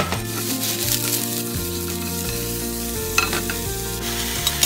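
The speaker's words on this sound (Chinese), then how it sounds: "跟住就俾菇，炒下啲菇先。 大约炒佢四至五分钟啦" Mushrooms stir-fried in hot oil in a pan for a celery and mushroom dish, with a steady sizzle and scraping stirs under background music.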